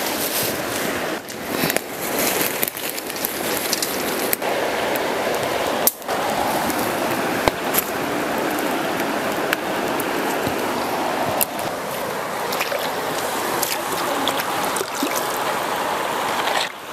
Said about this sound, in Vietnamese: Nước chảy, nghe tiếng nước chảy luôn ha.